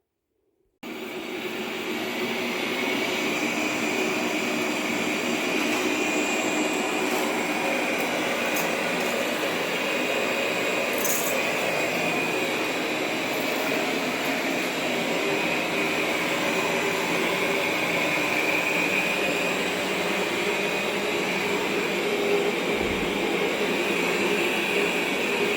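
A Roborock S7+ robot vacuum mop runs steadily and close by, giving a continuous whirring drone with a high-pitched tone that holds level for the whole stretch, with no talk over it.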